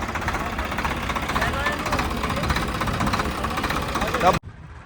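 A Swaraj 855 diesel tractor engine chugs steadily nearby with a rough, knocking rhythm, voices talking over it, then it cuts away abruptly.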